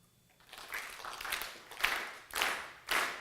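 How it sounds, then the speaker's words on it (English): A lecture audience claps together on request, starting scattered and then rolling into a few loud, swelling waves of applause that rise and fall about every half second, heard from within the hall. "What I want you to do is to clap synchronously together in time."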